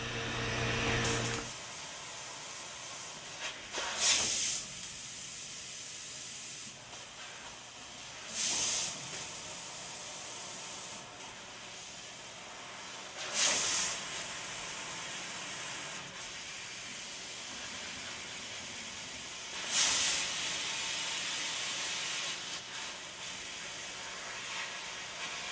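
A fiber laser with a 2.0 mm nozzle cuts copper with a continuous hissing rush of assist gas, broken at regular intervals by four louder, sharper blasts.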